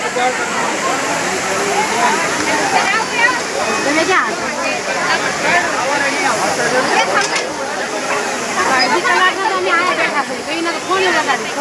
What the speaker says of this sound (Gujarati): તમને ખેતુજી નદીના ધોધના દર્શન કરી દઉં